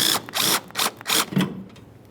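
Four quick ratchet bursts loosen a 10mm bolt holding the coolant reservoir on a 1998-2011 Ford Ranger 2.3L four-cylinder, each clicking run close and sharp, followed by a fading quieter tail.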